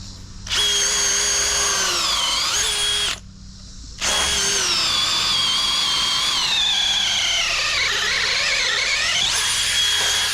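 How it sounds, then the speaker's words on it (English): A drill with an auger bit boring through wood for a firewood processor build, a loud close whining grind that cuts out briefly near the three-second mark, then resumes and dips in pitch as it bites deeper. "It's the auger bit for you. Yeah, buddy. Right through it."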